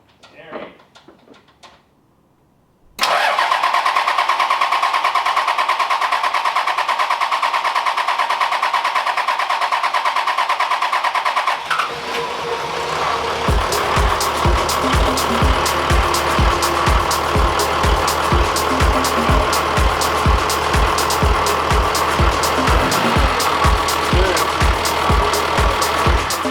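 A freshly rebuilt Toyota 1HD-T turbo diesel in an 80 Series cranks after a short quiet moment, fires and settles into a loud, rhythmic clattering idle with regular knocks, close by, with brief talk at the start.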